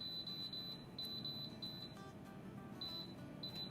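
An electronic oven timer being set while cooking a Ramadan breakfast, giving a series of short, high beeps, some in quick runs and some single, over a steady low kitchen background.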